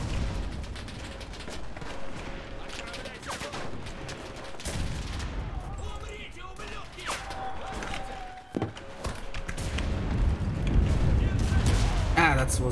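Bombs and gunfire from a World War II shooter battle in the video game Enlisted boom and crackle continuously at mid distance. A dense, rumbling barrage runs throughout, with heavier blasts swelling near the end.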